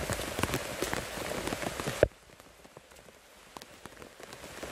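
Rain pours down in a forest during a thunderstorm, a dense hiss of drops pattering on surfaces, loud at first and then abruptly softer and more distant, with no talk.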